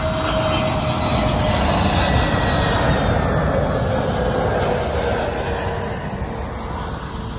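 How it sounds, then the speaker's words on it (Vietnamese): A low-flying airplane coming in to land passes overhead on a sunny morning in England, its engine roar loud and steady throughout before easing slightly toward the end. "Đó máy bay xuống rồi à."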